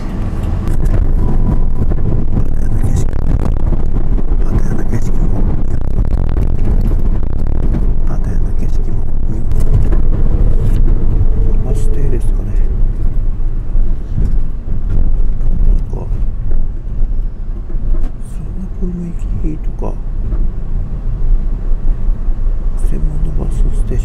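A Bell Travel Service van rolls through Pattaya, Thailand toward the bus station, its steady low road rumble and engine drone filling the cabin throughout, with a voice talking over it.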